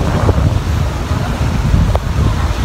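Strong seaside wind at Infanta, Quezon, buffeting the microphone in a constant loud low rumble with a faint hiss of surf behind it, steady throughout with no voices.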